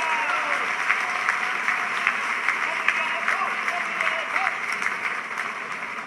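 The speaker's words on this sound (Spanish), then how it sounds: "Un aplauso para él." Audience applause at a charity gala, a dense steady wash of clapping for a former rally co-driver, sustained at even volume with faint crowd murmur and a voice underneath.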